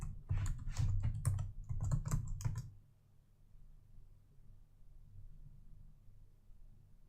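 Typing a password into a computer keyboard at a terminal prompt: a quick burst of close, crisp key clicks lasting about two and a half seconds, then quiet room hum.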